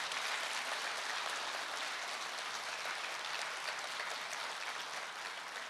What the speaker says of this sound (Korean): 김상문 회장님께 큰 박수 한번 쳐주시기 바랍니다